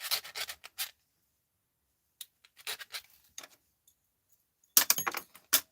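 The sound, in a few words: small stainless steel pieces rubbing on a magnet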